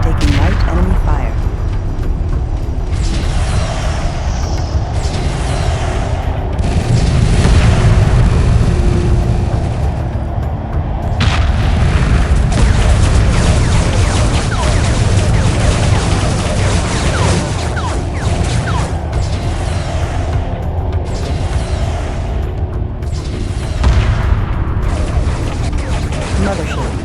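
Enemy fire strikes the mothership in the space strategy game Homeworld 2, a dense, steady barrage of low rumbling booms and mechanical clatter lasting throughout, with sharper impact bursts layered over continuous battle noise.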